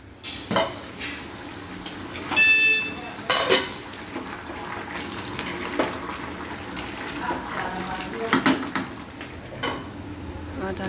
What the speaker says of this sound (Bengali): ওই চিকেনে জল আছে, ওকে ভালো করে কষাবো